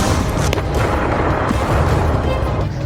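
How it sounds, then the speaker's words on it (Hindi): Wartime explosions and artillery-like booms from the fighting in Mariupol, Ukraine, heard as a dense, loud, continuous rumble with a few sharper blasts standing out. "ये धमाके याद कीजिए।"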